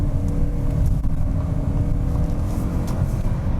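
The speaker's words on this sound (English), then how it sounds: "you heard the engine kick right in as I was under full load" A 2022 Ford Kuga PHEV plug-in hybrid SUV's engine runs hard under full throttle, a steady loud droning hum heard from inside the car with no talk.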